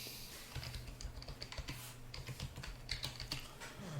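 Someone types a password on a computer keyboard while setting up a LUKS-encrypted internal backup drive, a steady run of quiet, close key clicks.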